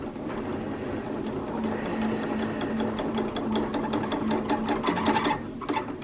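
A sewing machine stitches a sample piece of fabric along drawn lines while making a Butterick 5861 garment, giving a steady, fairly close mechanical whir with rapid needle ticks that speed up toward the end, alone without talk.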